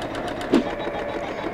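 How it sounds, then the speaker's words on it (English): Embroidery machine sewing a zigzag satin stitch on an appliqué, giving a steady continuous mechanical whir with a brief louder knock partway through. "It's going to go back and around in the zigzag stitch, and then it will do the final satin stitching."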